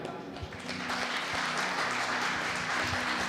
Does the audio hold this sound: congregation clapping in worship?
yes